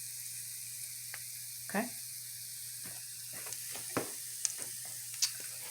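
Ground meat sizzles steadily in a pan while garlic powder and Italian seasoning go in for a baked spaghetti, with a constant frying hiss, a few utensil scrapes and a brief spoken word.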